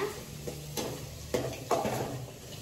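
Onions sauté in a pan while a spoon stirs them, scraping and clinking against the metal in several distinct strokes over a soft steady sizzle, close and moderately loud with no talking.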